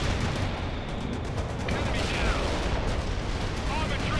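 Artillery fire and explosions from the real-time strategy game World in Conflict, during a white phosphorus fire mission, roar as a dense, continuous rumble of booms and blasts, loud and unbroken throughout.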